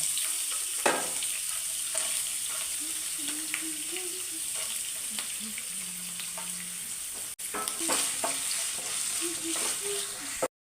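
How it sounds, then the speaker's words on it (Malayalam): Steady hiss of coconut pieces frying in oil, with occasional clinks and scrapes of a utensil stirring in the pan. "നമുക്ക് കുറച്ച് തേങ്ങാക്കൊത്തുണ്ട് അത് നമുക്കൊന്ന് വറുത്ത് കോരിയിട്ട്"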